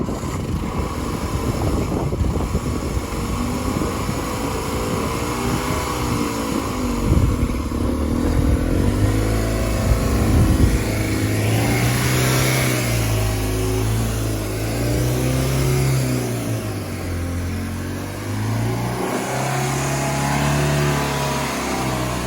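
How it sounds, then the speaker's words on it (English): A Mk3 Ford Fiesta engine idles high and uneven with the choke on, its pitch rising and falling in repeated swells, with some mechanical clatter close by and no voices. "Choke's on, by the way, that's why it's revving high."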